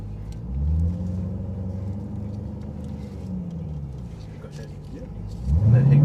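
A 710 hp 2025 Dodge Durango Hellcat SUV rumbles low while moving off, its engine note swelling and ebbing, then rising sharply near the end as it accelerates, heard from inside the cabin.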